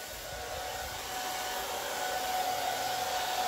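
An air blower roars steadily at close range over freshly poured acrylic paint, a constant loud rush of air that swells slightly toward the end, with no voices.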